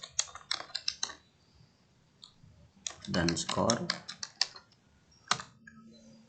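Typing on a computer keyboard while entering student names, question numbers and scores, with clusters of crisp, close key clicks, a dense flurry in the middle and a few isolated taps, and a person speaking briefly.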